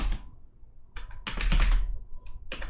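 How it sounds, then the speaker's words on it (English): Password being typed on a computer keyboard, with a few short bursts of key clicks separated by brief pauses, close and moderately loud, no talking. "make sure I type that in right"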